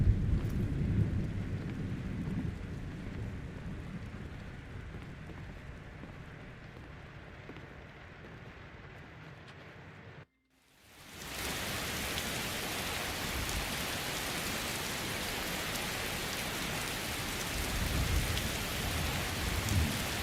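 Steady rain and low thunder rumbling in the Skyrim video game, a continuous dense wash that cuts out briefly and returns louder, with no talk.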